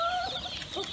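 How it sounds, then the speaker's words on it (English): Several chickens cluck and squawk close by in a short burst, with bright warbling calls layered over one another and no talk. "Holy smokes, chickens."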